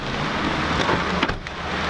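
Rain pours in the Drift Masters racing game, a steady, even hiss of falling water holding at constant loudness throughout the short stretch.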